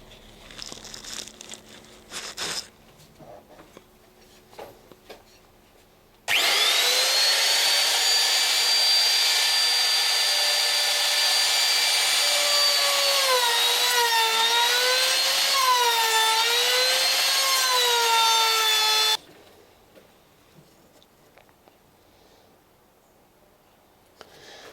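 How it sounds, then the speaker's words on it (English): A powered saw makes a trial cut across the end of a timber piece for a boat's boom or gaff spar, a loud steady whine of about thirteen seconds that wavers in pitch toward the end, with quiet handling before and after. "we'll just make a little trial cut on the end of our piece of timber"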